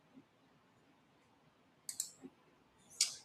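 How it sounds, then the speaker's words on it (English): A computer mouse clicks a few times at a desk, sharp and close against near silence: one soft tap early, a quick pair of clicks, then a single louder click at the end. "Let's click on this one."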